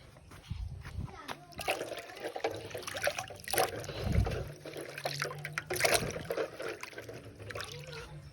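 Food is washed by hand in water, with irregular sloshing and splashing bursts up close and a voice talking over parts of it.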